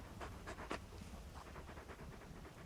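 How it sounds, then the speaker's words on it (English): Torgal, a large wolf-like dog in the Final Fantasy XVI video game, pants in quick, soft rhythmic breaths, close and fairly quiet, with no voices over it. "You're just a big puppy, aren't you?"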